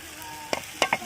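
Dried fish kharda, made with roasted sukat and salt, is stirred in a pan over a wood-fired stove, giving two or three quick scraping strokes over a soft sizzle.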